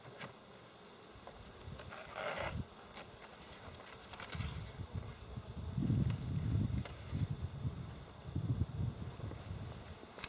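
Honey bees in a hive being smoked during varroa mite treatment give a faint, steady insect drone with a regular high chirping pulse, while low rumbling puffs and bursts swell intermittently underneath.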